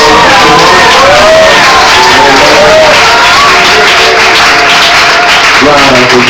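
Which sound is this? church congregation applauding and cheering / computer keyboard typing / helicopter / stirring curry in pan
church congregation applauding and cheering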